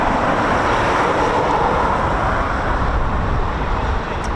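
Eurofighter Typhoon FGR4 jet returning to RAF Coningsby, a steady broad roar that holds loud and even throughout, with no talk.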